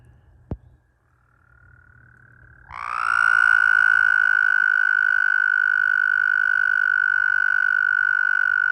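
A male American toad gives a long, loud, steady trilling call at close range in a wet breeding area, starting after a brief click and faint tone and holding unbroken to the end.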